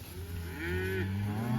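Cattle moo loudly and close by on a cattle drive of cow and calf pairs moving over open country, one drawn-out low bellow rising through the clip with no talking.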